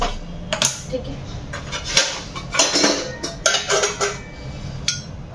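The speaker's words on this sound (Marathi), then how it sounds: "आणि हे भांड ठेवते याच्यावर." A metal pot is set on top of another vessel for steaming in a home kitchen, giving a series of loud, close clanks and clinks of cookware knocking together at irregular intervals.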